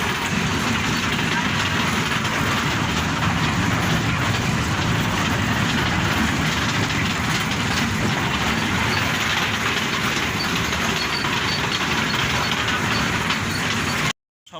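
A train at a station as passengers get off, a dense, continuous rumble and clatter of wheels and carriages with crowd noise mixed in, steady and loud before ending abruptly.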